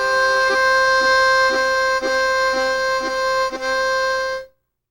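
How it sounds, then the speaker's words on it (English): A harmonica played with tongue blocking, lifting the tongue to sound a chordal rhythm: a sustained reedy note with regular rhythmic chord pulses, alone and fairly loud, ending abruptly. "lift your tongue away from the harmonica and play a chordal rhythm to it"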